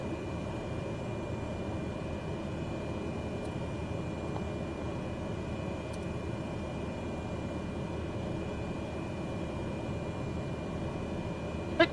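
A propeller aircraft taxis toward runway 27 in a flight simulator, a steady low engine drone with a constant hum, moderately quiet and unbroken, with no talk.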